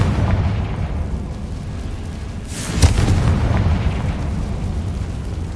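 A Confringo spell bursts in the Hogwarts Legacy video game, a single muffled boom rising out of a dense, steady game soundscape, loud and broadband with a brief swell before settling back into the rumble.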